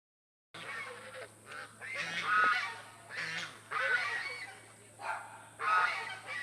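Geese honk in repeated loud bursts, several calls overlapping close by, with short quiet gaps between the bouts.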